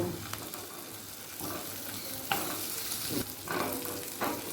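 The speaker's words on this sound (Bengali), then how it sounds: "এখন সামান্য সর্ষের তেল দিলাম আলুটা ভাজবার জন্য" Potatoes frying in mustard oil in a wok, giving a continuous soft sizzle with occasional spatula scrapes and clinks. The sounds are close but fairly quiet.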